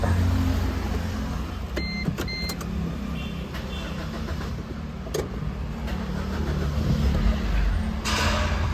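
A running car with original bonnet and interior, its engine idling steadily under a few brief mechanical clicks and whirs, with a short swell of road or engine noise near the end and no talking.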